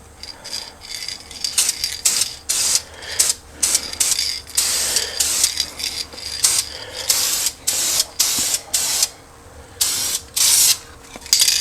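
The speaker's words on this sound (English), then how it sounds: "I'm going to go ahead and paint the back side of it black." Short hissing bursts from a spray paint can coat a brake caliper black, repeated in quick uneven pulses with brief gaps, close by and fairly loud, with faint rattling between sprays.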